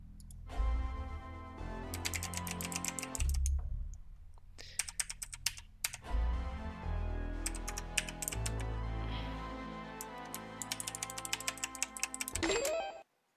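Computer keyboard typing while playing Five Nights at Freddy's: Security Breach: bursts of rapid, crisp key clacks with short pauses, close up over continuous game music.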